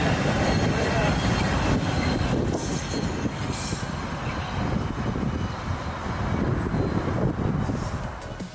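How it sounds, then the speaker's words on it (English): A morning VIA passenger train from Ottawa to Toronto passes through a station on the CN York Subdivision, its continuous rumble and wheel noise rising and easing slightly over several seconds, heard at moderate distance without clear speech. "Here we see a morning Ottawa to Toronto via train passing through the run-by section of the station."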